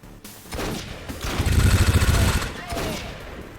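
A rapid burst of gunfire rattles out in XCOM 2, loud and dense for about a second. Softer shots and thuds come before and after it.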